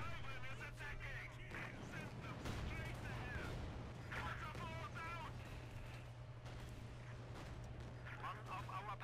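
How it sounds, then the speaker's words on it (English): Dense battle gunfire and artillery from Company of Heroes 2, a steady barrage of shots and blasts rumbling throughout under continuous talking. "there's one hell of a battle is raging down there"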